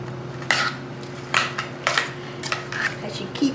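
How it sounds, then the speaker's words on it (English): Cucumber salad with sour cream and vinegar stirred in a bowl, a run of sharp utensil clinks and scrapes against the bowl at an uneven rhythm, close and fairly loud. "And we're going to mix that all up."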